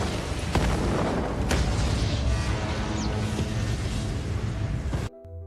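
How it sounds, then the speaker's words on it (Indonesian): A huge, sustained grenade explosion roar in a film, with crackling debris, dominates for several seconds before cutting off abruptly. "Ledakan besar menandai kemenangan bagi Kate."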